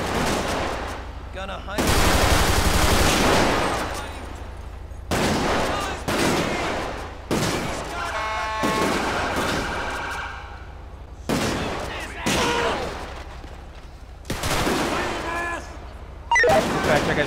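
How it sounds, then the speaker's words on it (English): Gunfire in a GTA V LSPDFR police patrol game during a jewelry store robbery shootout: loud, dense bursts of rapid shots in several long volleys with brief gaps, a voice speaking briefly between them. "I got shots fired."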